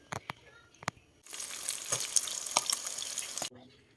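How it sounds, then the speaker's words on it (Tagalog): A few sharp clicks, then galunggong (round scad) fish sizzles loudly in hot oil for a couple of seconds before the crackling cuts off abruptly. "Prito na ako ng galunggong guys."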